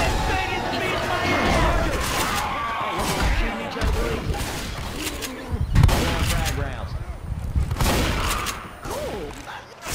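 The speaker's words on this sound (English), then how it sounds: "I shot the hunter and he bounced away" Rapid gunfire rattles throughout a Left 4 Dead 2 zombie shootout along a riverbank, dense overlapping shots mixed with game noise and voices.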